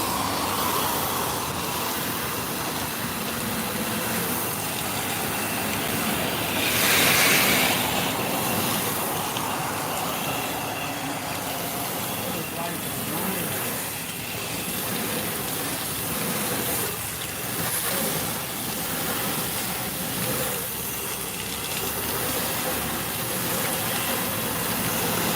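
A commercial pressure washer with a soft fan tip rinses a surface at low pressure, a steady broad wash of spray and hiss that runs unbroken for the whole stretch, with no voices.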